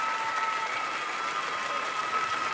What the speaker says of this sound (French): On peut les applaudir un peu plus,